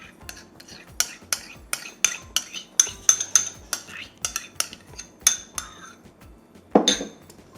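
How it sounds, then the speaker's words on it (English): A utensil stirs mayonnaise, sour cream and lime juice and zest in a bowl for elote, tapping and clinking against the sides in a quick uneven rhythm, close and clear, ending with a louder knock. "our juice and zest from those limes, and then we're gonna give this a good mix"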